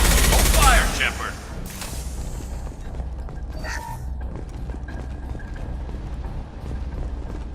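Gunfire in the Mass Effect 2 video game: a loud burst of shots at the start, then quieter scattered weapon sounds and mechanical noises under game ambience.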